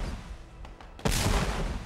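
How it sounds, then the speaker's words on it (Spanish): Cannon fire from two armies in a battle, with a couple of faint thumps followed by a heavy, sustained booming roar that fills the scene, loud and dense. "los disparos de cañón de ambos ejércitos tronaban en todas direcciones"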